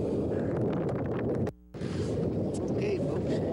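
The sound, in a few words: wind blowing on a lake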